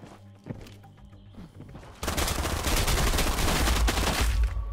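Shotgun fire in a VR shooter arrives as a dense, loud burst of blasts after a quieter stretch with a few scattered thumps, with rapid overlapping shots continuing to the end.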